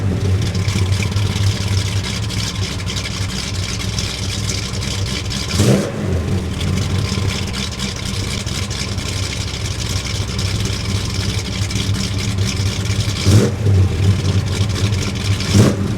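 A 1967 Chevy II Nova engine idles with a loud, steady rumble, then rises in two brief revs, one early and one near the end.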